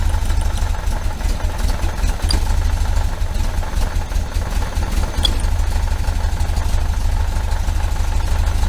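A 1973 VW Super Beetle engine with Dellorto FRD 34 carburetors idles close by, a loud, steady air-cooled chug with a slightly uneven rhythm and no voices over it.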